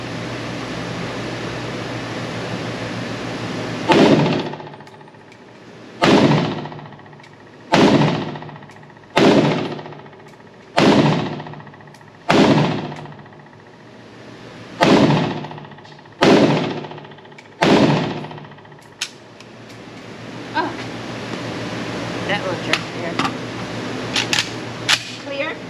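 Eight sharp gunshots from a 7.62x39 rifle crack out one by one at a steady, unhurried pace, loud and close, then fade into quieter outdoor background and faint handling noises.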